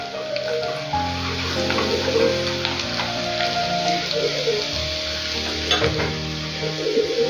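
Garlic and dried red chillies fry in hot oil for a ginger pickle, giving a loud, continuous crackling sizzle with occasional stirring scrapes and no voices.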